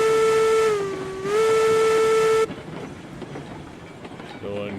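A steam train running downhill in the video game RailRoads Online sounds one long, loud whistle blast that dips in pitch midway, then gives way to a steady rumbling, clanking run.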